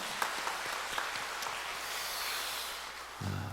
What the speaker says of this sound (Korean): 하나님 앞에 영광의 박수 돌리겠습니다